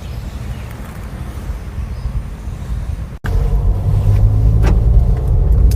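A car drives along a road in Wayanad, a steady close engine and road rumble with some wind noise that jumps louder after a short break midway, with no talking.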